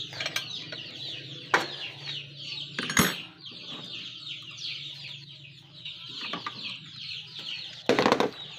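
Chickens and small chicks clucking and peeping close by in a yard, a steady chatter of high cheeps with occasional louder clucks and a few clinking knocks in the background.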